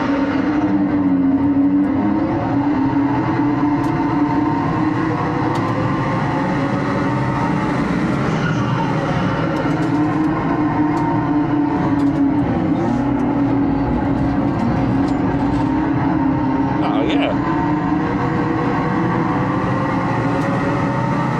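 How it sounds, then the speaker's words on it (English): A 281hp Vauxhall Mokka GSE launches hard under launch control, with a loud, continuous droning note that holds and gradually climbs as it accelerates, plus light flutter and wind noise and no talking. "it's got a turbo flutter as well, that's wicked"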